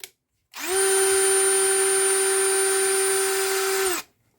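A new Einhell cordless screwdriver spins up, runs at a steady high-pitched whine for about three seconds, then stops. It is close and loud with no talk, and quiet before and after.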